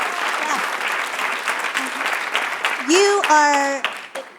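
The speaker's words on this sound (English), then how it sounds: "You get the clap for that, right?" Audience clapping at a panel on women in the workplace, with broken applause under talk and voices rising over it midway.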